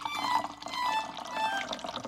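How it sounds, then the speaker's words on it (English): Ink poured through a kitchen funnel, a continuous gurgling, splashing liquid pour heard up close, steady and fairly loud throughout. "He got a funnel from the kitchen and started pouring ink."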